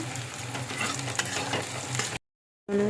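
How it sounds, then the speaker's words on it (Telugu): Green chillies go into onions, curry leaves and coriander frying in a pan, giving a close crackling sizzle with stirring scrapes for about two seconds, then a short silence before the sizzle resumes. "ఇప్పుడైతే పచ్చిమిర్చి వేస్తున్నాను."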